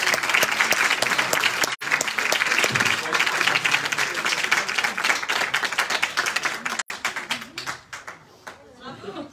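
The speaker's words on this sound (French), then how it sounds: "on l'applaudit" Audience applause at the Zombie Award 2023 ceremony, dense continuous clapping from a crowd close by for about seven seconds, then thinning into scattered claps as a voice speaks over the end.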